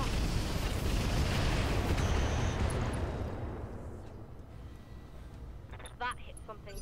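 Heavy artillery fire and explosions in Roguepoint, a loud rumbling roar that swells and then slowly fades into a lower after-rumble, with a short voice near the end.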